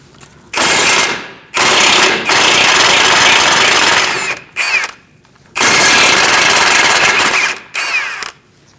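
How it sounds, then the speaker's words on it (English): A power tool with a 17mm socket spins off ball joint nuts on a 2002-2006 Toyota Camry front knuckle, giving loud whirring bursts of one to three seconds separated by short pauses, close with no talk. "Using a 17mm socket, we're going to remove these nuts"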